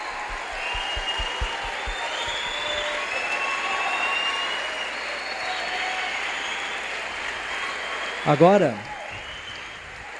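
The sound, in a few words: audience applause at a lecture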